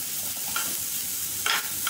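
Ingredients for a potato snack are briefly sautéed in a pan, with a steady soft hiss and two short bursts of stirring scrape over about two seconds.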